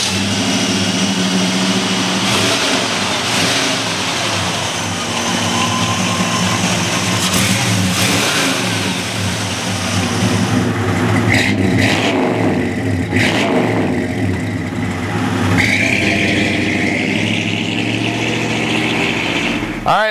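A 1970 Chevy Malibu convertible's engine idles and revs in several rising and falling bursts, loud and close throughout, with some faint background sound mixed in.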